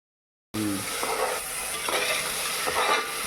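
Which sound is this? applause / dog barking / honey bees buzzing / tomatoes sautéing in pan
tomatoes sautéing in pan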